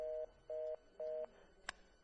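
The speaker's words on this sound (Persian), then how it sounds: "تلفن رو خاموش کرد." A telephone plays three evenly spaced steady beeps after a call is hung up, each about a quarter second long, clear and close, followed by a brief click.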